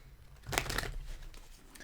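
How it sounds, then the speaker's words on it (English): A deck of tarot cards is shuffled briefly by hand, giving a short papery riffle and crinkle close to the microphone in a quiet room. "Let me just want to shuffle this deck up a bit here."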